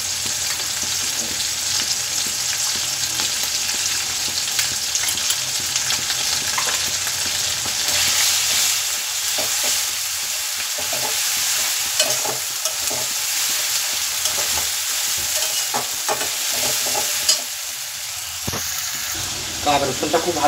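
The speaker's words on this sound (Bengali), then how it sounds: "আদা রসুনটা খুব ভালো করে ভেজে কাঁচা গন্ধ চলে যাওয়ার পরে" Ginger and garlic sizzle steadily in a pan with tomatoes and onions, with repeated spatula scrapes and stirring clatter that grow busier midway, close and fairly loud.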